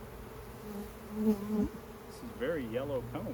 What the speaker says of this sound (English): There's a ball of bees rolling around